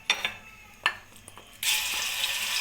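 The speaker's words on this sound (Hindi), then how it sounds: "और इसमें मैंने 2 कप के करीब ऑयल डाल दिया है।" Oil in a karahi for chicken tikka gravy: a few light clinks of a utensil against the pan, then an abrupt, loud, continuous sizzle as frying begins, close and without talk.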